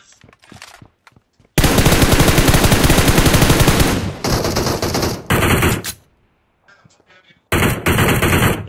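Rapid automatic gunfire from a squad battle video game comes in long, loud, close bursts with short pauses between them, while players talk quietly underneath.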